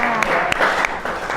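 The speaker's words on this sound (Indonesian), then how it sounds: "beri tepuk tangan dulu untuk kelompok 4" A classroom gives group 4 a round of clapping, a dense patter of many hands with a few sharper claps standing out, fairly loud and close, with a voice faintly mixed in.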